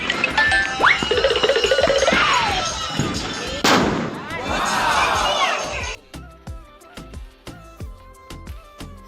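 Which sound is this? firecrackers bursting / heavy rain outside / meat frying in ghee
firecrackers bursting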